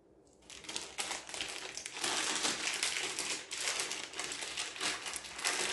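A plastic piping bag filled with melting-moments cookie dough crinkles and crunches as it is handled, a steady close crackling rustle that begins softly and then continues without pause.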